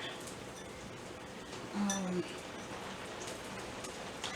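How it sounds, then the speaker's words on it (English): Steady rain patters quietly in the background, with a brief faint clink partway through. "I love the rain though, you guys."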